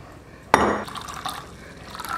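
Wine poured into a glass, beginning with a sharp clink of the bottle against the rim and followed by a short, close splashing gurgle of liquid filling the glass, with no talk over it.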